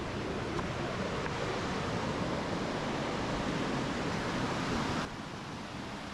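The River Ribble rushes beneath a footbridge near a weir, a steady, dense roar of flowing water that runs unbroken and drops slightly in level near the end.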